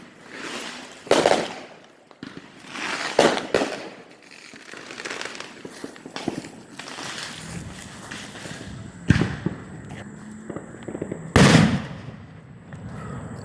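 Explosions in a loud warzone soundscape: sharp, booming blasts and crackling bursts at irregular intervals, several close and punchy, with quieter rumbling between them and no talk.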